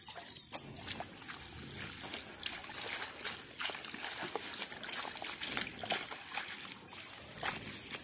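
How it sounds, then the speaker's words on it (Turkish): Freshly picked kımı greens being washed by hand in water, with repeated close sloshing, trickling and splashing as the leaves are rubbed and moved about. "Şimdi yıkamaya başladım. Bunları böyle üç su yıkayacağım."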